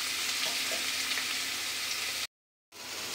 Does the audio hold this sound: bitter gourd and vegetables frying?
yes